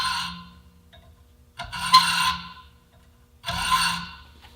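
Hand saw cutting with long full-blade strokes, giving three separate rasping pushes with short quiet gaps between them, close and moderately loud, with no voices.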